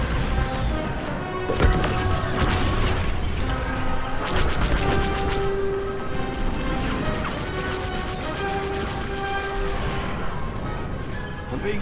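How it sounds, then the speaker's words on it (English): Missile launches and impacts in Star Wars Squadrons, a dense, loud space-combat mix of crashing booms, whooshes and engine drone running continuously with no pauses. "Missiles away."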